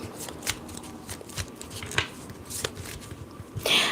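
Tarot cards are shuffled by hand close up, with a quick irregular series of papery riffles and slaps and a sharper flurry at the end, and no talking over them.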